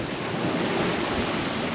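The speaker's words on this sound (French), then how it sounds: "on se rend compte quand même qu'il y a des vagues" Ocean waves rush in a steady broadband wash with strong wind noise on the microphone, aboard a sailboat on an Atlantic crossing from the Canaries and Cape Verde to Martinique.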